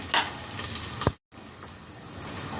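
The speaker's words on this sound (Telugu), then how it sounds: "ఇప్పుడు పోసి పెట్టుకున్న ఉల్లిపాయ ముక్కలు వేస్తున్నాను" Chopped onion pieces hit hot oil in a pan, giving a soft, quiet sizzle with a brief clatter of stirring and a short silent gap before the frying hiss resumes.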